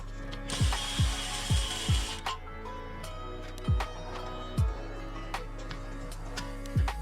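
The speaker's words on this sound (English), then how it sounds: "Now we're removing the brake caliper bracket." A ratchet wrench works loose the rear brake caliper bracket bolts on a 2009-2014 Acura TSX, giving quick bursts of close, crisp clicking with short pauses between pulls over a steady low hum.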